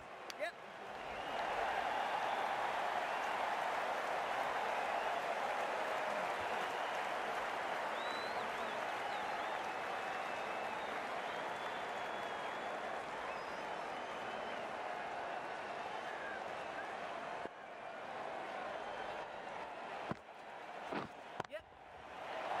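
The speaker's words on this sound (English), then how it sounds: "The crowd are loving this." A cricket crowd's applause and cheering rolls on as a dense, sustained roar for about twenty seconds before dropping away, with a commentator talking over it.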